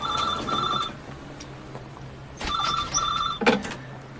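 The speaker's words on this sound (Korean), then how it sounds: "그런데 그가 걸어가는 위치마다 전화벨이 울리죠." A telephone rings in two separate bursts of quick double trills, moderately loud against a faint background hum in a scene from Sherlock set in London.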